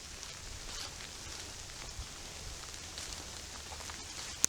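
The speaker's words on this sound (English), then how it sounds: "I've been in the rain all day." Outdoor rain makes a soft, steady patter with scattered drips. It stays quiet and even throughout, ending in one brief sharp tap.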